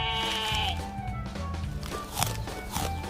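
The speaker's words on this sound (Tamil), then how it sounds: "செம்மறியாடா?" Sheep bleating several times at close range, wavering calls with a few footsteps and shuffles in between.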